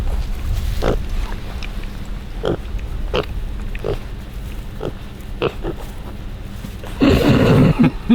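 Pigs oink and grunt in a series of short, separate bursts, with a louder, denser cluster of squeals and grunts near the end, heard close by on a farm with an electric fence.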